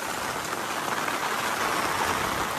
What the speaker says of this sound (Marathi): पाऊस थांबायचं नाव घेत नाही आहे.